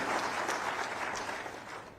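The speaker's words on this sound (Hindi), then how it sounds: "जोरदार ताली से अभिनंदन करें" An audience at a government farmers' scheme event welcomes the chief minister with loud, dense applause, a continuous wash of clapping for the whole brief moment.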